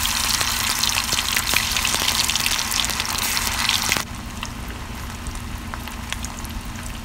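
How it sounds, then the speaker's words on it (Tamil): Mutton keema balls deep-fry in hot oil on a stove with a steady, dense sizzle that drops slightly in level partway through, with no talk. "இப்போ நம்ம ரெடி பண்ணி வச்சுருக்கிற கைமா உருண்டையை போட்டு நல்லா பொரிச்சு எடுத்துடலாம்."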